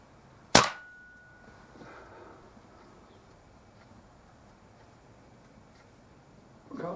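A Kral NP500 air rifle fires a single sharp, close crack, followed by a faint metallic ring and quiet background.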